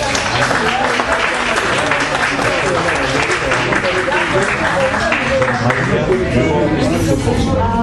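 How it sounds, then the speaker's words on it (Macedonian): An audience at a book launch bursts into sustained applause, dense clapping close and loud throughout with crowd murmur mixed in. "па да му дадеме еден голем аплауз"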